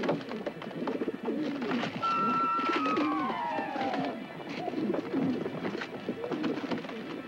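A flock of pigeons coos in a continuous, close chorus of low, throaty calls, with one rising-and-falling squeal sliding across the middle as a wounded young squeaker is attacked.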